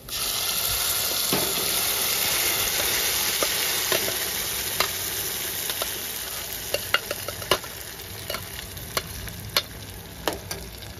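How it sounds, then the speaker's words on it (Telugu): Dal goes into a sizzling tempering of butter and spices in a pan, giving a steady loud frying hiss broken by sharp clicks and taps of stirring. "పప్పు వేసుకుందాం."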